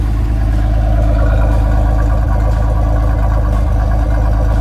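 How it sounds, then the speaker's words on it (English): A 1982 Chevrolet Citation X11 with a throaty tuned exhaust idles steadily and close by, giving a deep, even, continuous rumble that stays loud and unbroken throughout, with no voices. "You can hear that throaty tuned exhaust of the X11."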